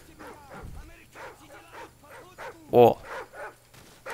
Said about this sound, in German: Scheiße, Hunde.